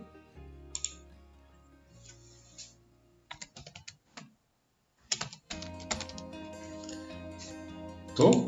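Keys clatter on a computer keyboard as text is entered into an AutoCAD multiline text box, a loose run of typing strokes over steady background music.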